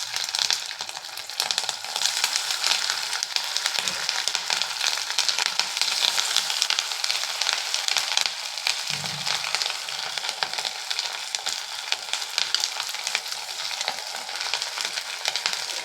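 Rava vada batter frying in hot oil over a medium flame, a steady, dense sizzle that runs loud and unbroken throughout with faint bubbling crackle.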